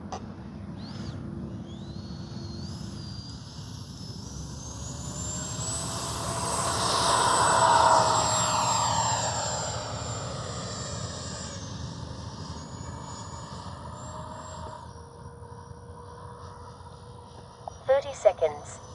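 Freewing 80mm F-22 Raptor RC jet taking off, a rising turbine whine that swells loudly as it passes near and then fades into the distance, with people talking over it.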